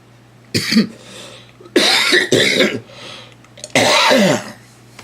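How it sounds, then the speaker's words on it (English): Three bursts of harsh, raspy smoker's coughing, close and loud, with a low steady hum underneath. "I have a smoker's cough."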